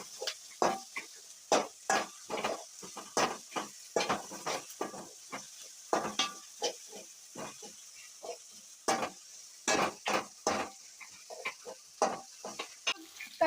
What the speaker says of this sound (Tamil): நல்லா வந்துட்டு ஃப்ரை நல்லா ரெட்டிஷான நிற அளவுக்கு வந்துட்டு நல்லா வதக்கிக்கணும்